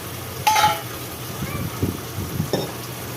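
Green peas are stirred and sautéed in a pan for pulao, giving soft sizzling with a few scraping stir strokes and light clinks of a utensil against the pan.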